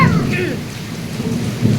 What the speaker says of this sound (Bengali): যা বৃষ্টি হচ্ছে